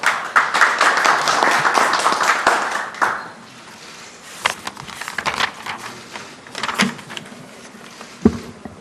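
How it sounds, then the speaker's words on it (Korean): At a Korean security and trade policy forum, an audience applauds to welcome the opening speaker, a university professor. A dense burst of clapping lasts about three seconds, then thins into scattered claps and small knocks. "모두 뜨거운 박수로 맞이해 주시기 바랍니다."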